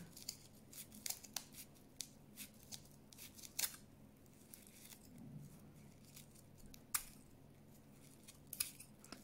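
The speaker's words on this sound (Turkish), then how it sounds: "burada makasımızın keskin olması önemli." Sharp scissors snip through paper rope to cut tassels. Quick crisp cuts and rustles sound close and fairly quiet, in irregular bursts with brief pauses between them.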